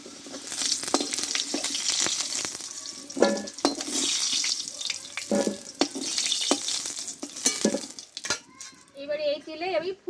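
Cauliflower and fried potatoes sizzling in hot oil, with a steady crackling hiss broken by stirring clatter against the pan and a few sharper knocks near the end.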